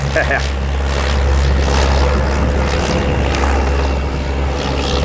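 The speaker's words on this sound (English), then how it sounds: "you know what I like about the smaller planes is they don't need much runway to take off" Small propeller plane taking off at Palomar Airport, its engine droning steadily at a distance over a constant low rumble, with people talking nearby.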